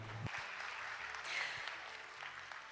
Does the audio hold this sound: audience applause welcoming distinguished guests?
yes